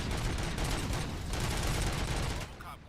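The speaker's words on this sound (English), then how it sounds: "Gunshots? What's going on?" Gunfire in the video game RoboCop: Rogue City, a rapid, dense volley of shots close by, heavy and loud for over two seconds before cutting off into quieter background sound.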